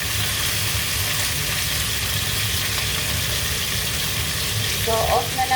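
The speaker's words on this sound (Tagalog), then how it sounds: "So, yan. Prito na siya." Food fries in a pan with a loud, steady sizzle and crackle that runs without a break, with a brief clink or scrape near the end.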